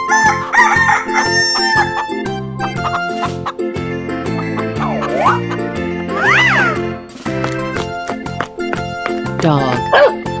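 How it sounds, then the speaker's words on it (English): A cartoon rooster crows in a 3D animal sliding video game, its rising call cutting through busy looping music alongside other animal effects and occasional speech. "Chicken."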